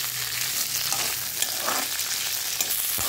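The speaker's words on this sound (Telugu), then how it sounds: "సో కొంచెం వేయించుకోవాలి, జిగురు తనం అనేది లేకుండా." Okra fries in a pan with a steady, dense sizzle throughout, stirred now and then with a few faint scrapes, close and continuous with no talking.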